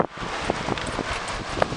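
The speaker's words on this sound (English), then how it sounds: "got some wind here" Wind blows outdoors on a nature trail in Kanata, Ontario, buffeting the microphone with a steady, loud rumble and rustle. A few faint scuffs and rustles sit within the noise, and there is no speech.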